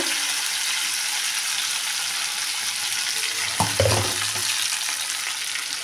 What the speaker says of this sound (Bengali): আলুটা অনেকটাই ভাজা হয়ে গেছে